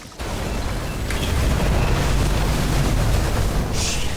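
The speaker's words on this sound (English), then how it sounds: "Fuses just blew." Fuses blow in Nobody Wants to Die with a sudden loud burst that swells into a heavy, sustained roaring rumble. A few sharper crackles flare within it, and no voices are heard.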